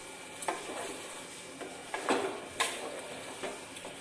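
Beef stirred into tomatoes in a pan, with several scraping, clinking strokes of a utensil against the pan at irregular intervals over a soft, steady background sizzle.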